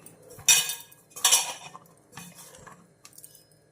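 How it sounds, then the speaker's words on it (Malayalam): Fish pickle being mixed with chili powder in a pot, close metallic spoon scrapes and clinks against the pot in a few irregular bursts with quiet gaps between them. "ഇപ്പോൾ ആവശ്യത്തിന് മുളക് പൊടിയും കൂടി ഇട്ട് നന്നായിട്ട് മിക്സ് ചെയ്യുവാണേ"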